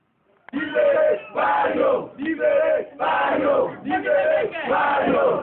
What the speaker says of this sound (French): la préfecture de Dubreka a été secouée par une foule en colère